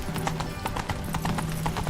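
Roach, a horse in The Witcher 3 video game, gallops in a quick, rhythmic run of hoof clip-clops, close and clear over low background game sound.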